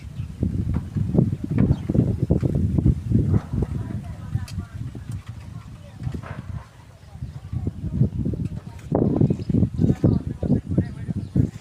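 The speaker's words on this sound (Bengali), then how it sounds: "ধানের গাছগুলো কেমন নুয়ে পড়তেছে দেখুন" Wind gusts across rice paddy fields, rumbling in uneven low bursts against the microphone while a person talks over the blustery rush.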